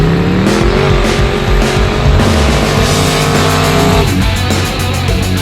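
A big-block G-body car doing a burnout, loud and close, with the engine roaring and revving steadily under a continuous high tire squeal that shifts pitch partway through.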